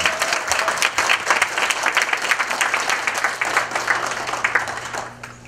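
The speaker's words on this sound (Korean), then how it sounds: "우리 서로에게 축하의 박수를 쳤으면 합니다." Sustained applause from an audience at a fan club's eighth regular gathering for a Korean trot singer, a steady dense clapping that holds for several seconds and thins out at the very end.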